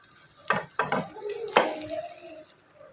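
A vegetable egg omelette in a hot pan being turned over with a spoon: a few sharp scraping clinks of metal on the pan followed by a soft sizzle, close and alone.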